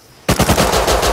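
Rapid automatic gunfire from a weapon in the survival game Rust, a loud sustained burst of closely spaced shots that starts abruptly after a moment of near quiet and keeps a steady rhythm to the end.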